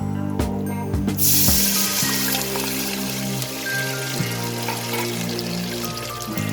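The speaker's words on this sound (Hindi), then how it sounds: "अब मैं इसके अंदर पानी डालूंगी" Water is poured into hot desi ghee fried with cardamom while making zarda sweet rice syrup. It starts as a sharp burst of sizzling, then settles into a steady bubbling hiss with a low hum, close and fairly loud.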